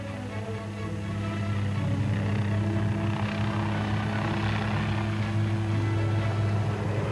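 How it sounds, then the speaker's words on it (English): Attack helicopters flying forward in formation, a steady loud rotor and engine drone with deep low thumping that stays constant throughout, no talk. "As the attack helicopters move forward"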